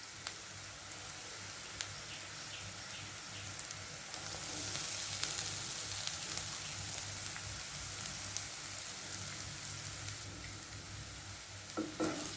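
Butter beans fry with coarsely ground coconut and masala in a pan, making a continuous crackling sizzle that rises a little midway, with occasional scrapes and taps of the spoon as the mix is stirred.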